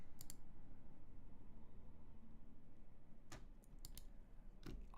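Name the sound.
computer mouse click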